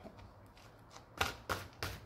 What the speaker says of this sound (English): I will take all cards out